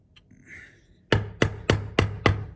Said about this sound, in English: chisel at roughly 45 degrees. I'm going to tap in